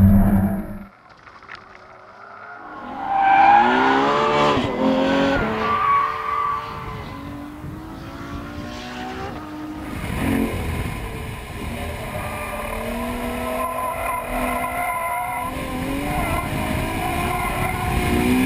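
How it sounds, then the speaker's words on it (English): A 2013 Ferrari F12 Berlinetta at wide open throttle in fifth gear, roaring and climbing in pitch, sustained loudly, with wind and road noise close by. "That's fifth gear, wide open throttle."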